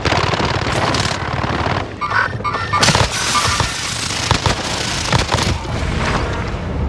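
Dual pistols fire rapid, loud, close volleys in Call of Duty Warzone, dense cracking shots nearly nonstop with brief lulls and sharp peaks.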